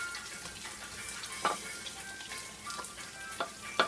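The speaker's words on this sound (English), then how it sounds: "let that saute with the garlic and the onion" Tomatoes sautéing with garlic and onion in a pan for saltfish buljol, a steady soft sizzle with a few sharper clinks and stirring taps spaced through it.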